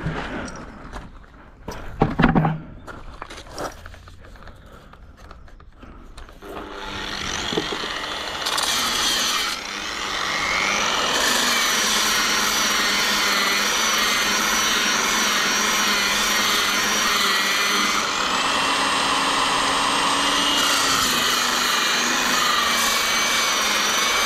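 A power sander working on a coffee-table wood piece: some handling clatter, then a loud, steady whirring drone that builds and holds close up, with no talking.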